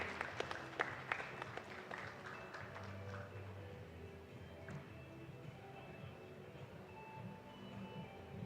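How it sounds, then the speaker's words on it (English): Audience applause for a project presentation at a summit: a sustained wash of clapping across the hall, denser at the start, then holding at a steady moderate level without speech. "Dr. Pradeep, please give a big round of applause for this project."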